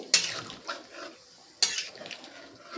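A spoon clatters against a pot while mutton is stirred with water for mutton kosha, giving two sharp scraping strikes followed by softer wet shuffling, fairly close and moderately quiet, with no talk.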